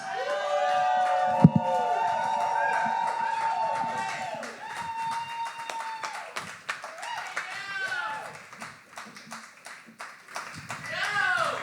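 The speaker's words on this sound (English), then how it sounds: "Please give a huge round of applause to Margaret." Crowd at a poetry slam clapping and cheering for a poet, sustained applause mixed with whoops and shouting voices throughout, fairly loud and close.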